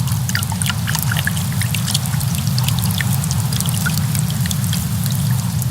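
Water draining through a small hole hidden in the seam of a pitcher into a flat channel, a continuous loud trickling stream with bright splashy droplets throughout.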